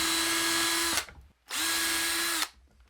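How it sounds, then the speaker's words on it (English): A power drill pre-drills into wood while building sawhorses, two close, loud bursts of about a second each with a high motor whine, separated by a brief pause. "Now I'm going to pre-drill into this."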